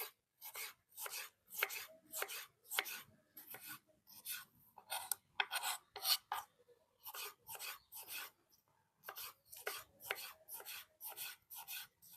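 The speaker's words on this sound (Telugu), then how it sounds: "ఇప్పుడు టమాటాలు, పచ్చిమిరకాయలు కోసుకుందాం." Knife chopping tomatoes and green chillies on a board while making drumstick curry, a steady run of crisp close cuts in quick bursts separated by short pauses, with no voices.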